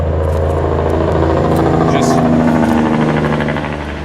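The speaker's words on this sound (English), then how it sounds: "This is the loudest truck." A loud truck engine rumbles past outdoors, a heavy low drone that swells and lingers for several seconds beneath a person talking nearby.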